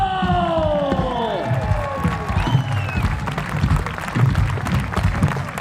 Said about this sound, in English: Can you give a big, massive round of applause to Mr. Michael Boyle?